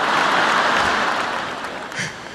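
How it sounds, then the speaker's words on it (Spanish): A festival crowd in a town plaza applauds with a dense, loud wash of clapping that tapers slightly toward the end. "La gente purenina que está acá, un aplauso para ella"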